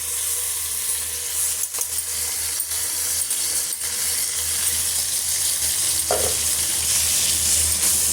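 Tomatoes and a handful of mint sauté in a pan for hotel-style egg biryani, giving a steady close sizzle with occasional clinks and scrapes of stirring.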